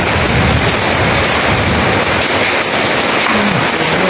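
Rain falls heavily and steadily as a loud, continuous hiss that covers the whole stretch without a break.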